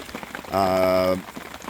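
Rain falling on a camp during a wet spell, a soft steady patter in the background, briefly overlaid by a sustained humming tone in the middle.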